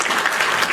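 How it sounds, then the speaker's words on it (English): A short burst of hand claps sounds as a played-in effect on a talk show, dense and bright, lasting under a second. "Hit my hand claps."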